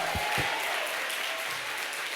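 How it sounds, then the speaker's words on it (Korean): A church congregation claps during a revival service, with a few sharp claps at the start followed by a steady wash of applause from a crowd at some distance. "박수 한번 칩시다. 박수."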